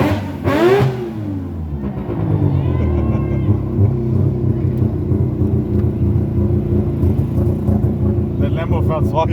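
A Mazda RX8 with a peripheral-ported 20B rotary engine snaps through a sharp rev at the start, then settles into a loud, choppy, lumpy idle that pulses steadily up close, with voices briefly audible over it.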